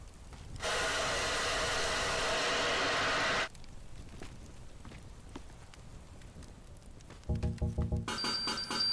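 In the video game Teardown, a loud rushing roar like a burning fire fills the first few seconds, then drops to a softer crackling texture, and other louder game sounds come in near the end.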